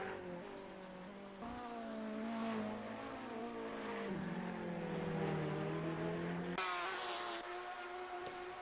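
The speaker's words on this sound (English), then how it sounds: "Got a couple cars coming out the pits as well." Sim race cars pulling out of the pit lane during Daytona 10-hour qualifying: engines droning and revving up in pitch, with a sharp shift to a higher, louder whine near the end, no talk.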